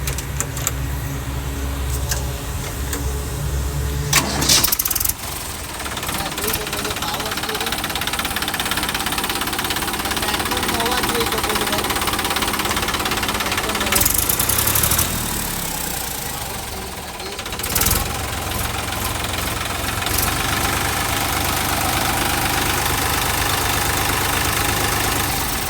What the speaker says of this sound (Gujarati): ખાલી 187 કલાક તમને ચાલુ કરીને ટ્રેક્ટરનો અવાજ પણ બતાવી દઉં